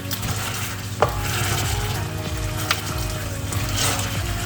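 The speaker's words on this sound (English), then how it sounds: "a simple potato masher and squash all the veg, just squash it down" Vegetables in a roasting tin for a midweek roast chicken, onion, carrots, celery, garlic and herbs, squashed down with a simple potato masher: steady soft sizzling and squelching, with a few sharp knocks of the masher against the pan.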